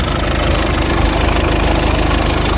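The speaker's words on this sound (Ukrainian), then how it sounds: "нехай прогріється, щоб ми проїдемось краще, щоб він нагрівся добре" A 2018 VW Golf 2.0 turbo engine (110 kW) idles steadily up close while warming up, a constant low rumble with a faint rhythmic knock and no voices.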